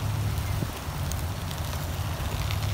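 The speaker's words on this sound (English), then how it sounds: "this wind is blowing" Wind rushes steadily past the microphone outdoors at a backyard grill, a low constant roar with no speech.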